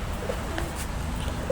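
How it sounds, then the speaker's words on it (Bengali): A 35 breed pigeon gives a few soft, low coos close by, short and gentle against quiet background noise. "ভিউয়ার্স, এটা হচ্ছে 35 কবুতর।"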